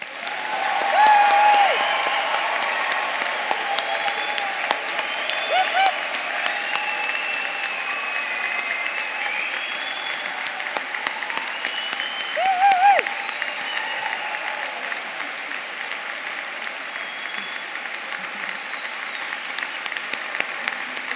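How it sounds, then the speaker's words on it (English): A graduation audience in a large London concert hall applauds steadily throughout, a dense wash of clapping with a few faint cheers and whistles rising briefly near the start and middle. "we should give you a first loud round of applause"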